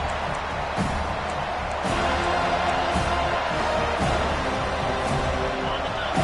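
A packed football stadium crowd roars steadily in a loud, continuous wash of cheering and whooping, heard from within the stands at the start of a Seminoles game.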